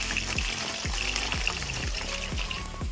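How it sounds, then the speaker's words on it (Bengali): Cornflour-coated, spice-mixed paneer fries in hot oil, a steady close sizzle with repeated low knocks from stirring or turning the pieces. "এটা ভেজে নিচ্ছি পনিরটা তেলেতে।"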